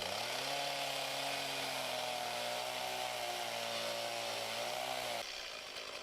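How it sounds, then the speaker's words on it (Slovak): A chainsaw fitted with a new bar runs at a loud, steady high rev close by, then cuts off abruptly near the end, leaving only faint background noise. "Nakopol som pílu a všetko fungovalo ako malo."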